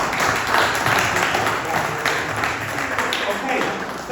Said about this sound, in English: But anyway, applause in regards to what's happened today.